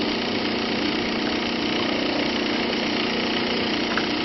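An RV motor runs steadily at 1800 RPM with a rotating inverter attached, giving a constant, even, close mechanical drone with no talking.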